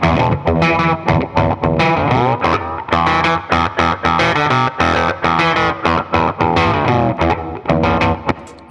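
A loud musical loop runs through a Catalinbread Bitters multi-effects pedal, heavily distorted and warbling with modulation in choppy, pulsing phrases, and no voice over it.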